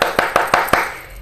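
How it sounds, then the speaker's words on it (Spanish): Five sharp, evenly spaced hand claps ring out loud and close in quick succession, an enthusiastic burst of applause from a single person, with no talking. "Que hacía mucho tiempo que no aplaudía con tantas ganas."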